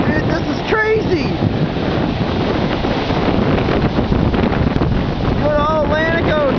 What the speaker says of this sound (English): Like the more the tide goes out, the bigger the waves are getting.